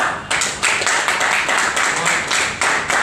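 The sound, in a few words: audience clapping at an event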